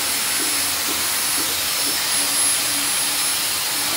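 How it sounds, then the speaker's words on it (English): A Dyson Airwrap blow dryer attachment blasts air in a loud, steady, high-pitched whooshing hiss with a faint whine, unbroken and close, with no one talking over it. "The next thing that it comes with is this blow dryer."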